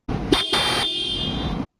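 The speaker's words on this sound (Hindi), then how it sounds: "तो सुनते हैं एक बार इसका हॉर्न का साउंड।" Dual horn on a Yamaha R15 M motorcycle sounds in one loud, steady blare of about a second and a half, close by, with a short stutter near the start and no talking.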